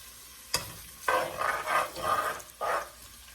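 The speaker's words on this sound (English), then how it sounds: "Y'all can hear that sizzle." Onions sizzle in a hot pan, with several bursts of loud hissing as they are stirred, each rising and fading.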